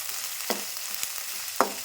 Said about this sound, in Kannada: ಶುಂಠಿ ಬಳ್ಳಿ ಪೇಸ್ಟ್ ಫ್ರೈ ಇದೆ ಉಳ್ಳಾಗಡ್ಡಿ ಫ್ರೈ ಇದಾವೆ